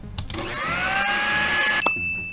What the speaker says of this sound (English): somehow the blender fries up the fish